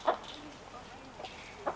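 Chickens in a backyard coop give a few brief, close clucks and calls spaced across a short, otherwise quiet moment.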